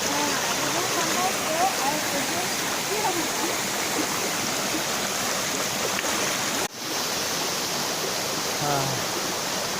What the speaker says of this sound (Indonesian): Air terjun piramida.